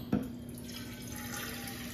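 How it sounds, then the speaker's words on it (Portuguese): A thin stream of water runs into a cooking pot at a kitchen sink, a steady close splashing after a brief clunk at the start, with no talking. "Daí eu vou colocar um pouquinho d'água,"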